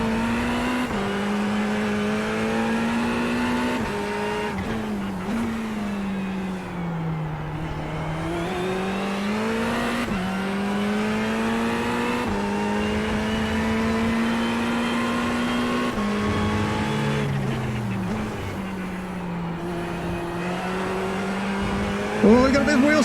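A Ferrari 488 GT3 Evo in iRacing at Interlagos holds a loud, sustained engine drone whose pitch rises and falls through gear changes, with a brief tire squeal of wheel spin near the end; a voice talks over it at times.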